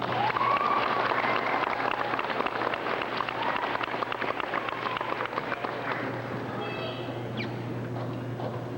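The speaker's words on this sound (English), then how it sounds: "Let's open by giving these 5th grade students a big round of applause" A crowd of parents and guests applauds 5th grade students at a school gathering, a dense, steady wash of clapping from start to finish that tapers slightly near the end.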